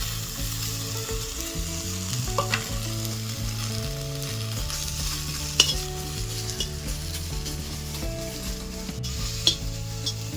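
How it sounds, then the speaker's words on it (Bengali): Neem leaves dry-roasting in a dry wok with no oil give a steady sizzle and crackle with a few stirring scrapes, close by and continuous for the whole stretch, with no voices. "এবার শুকনো কড়াই ভেজে নেবো আমি"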